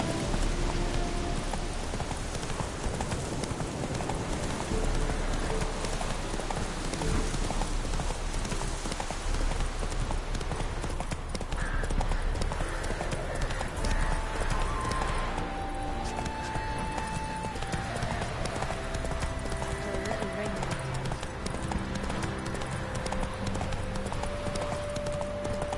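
A horse gallops in The Witcher 3 game with continuous rhythmic clip-clop hoofbeats, near and fairly loud, over a rain-like patter throughout.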